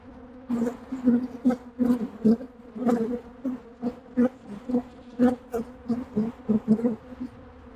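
Bees buzzing close by around a hive during a honey harvest, a steady drone broken by repeated louder bursts as individual insects pass near.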